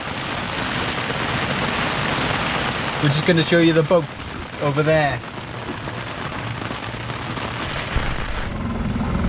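Heavy tropical rain shower pours down steadily in the Caribbean, a dense hiss throughout, with a person talking over it partway through.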